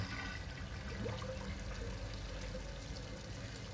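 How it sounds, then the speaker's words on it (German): Water flows through a mechanism in the puzzle video game The Room 4: Old Sins, a steady rushing pour like a flush that runs continuously at moderate level with no voices. "So, damit kann das Wasser weiterfließen."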